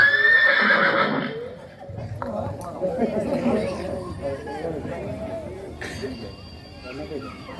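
A horse gives a loud, close whinny at the start. Hoof clip-clops and the chatter of several voices follow as the neigh fades.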